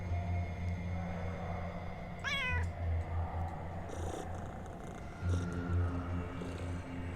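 A cat in the video game UnderRail lets out one short, rising-and-falling meow midway, moderately close, over a steady low game ambience and hum.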